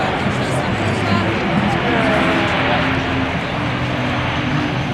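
A C-130J Super Hercules transport aircraft landing at the Farnborough Air Show, its propeller engines giving a steady, loud broadband roar with a low drone that fills the whole stretch, with no talk over it.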